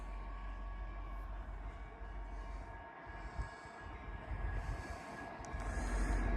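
A CN freight train rolls past in snow with a low, steady rumble of wheels and cars that swells slightly toward the end, heard from a distance without speech.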